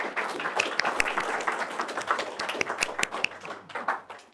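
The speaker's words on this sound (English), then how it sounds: "Let's give them a round of applause." Audience at a tech conference gives a round of applause, a dense burst of many individual hand claps that stays fairly strong before thinning out toward the end, with no speech over it.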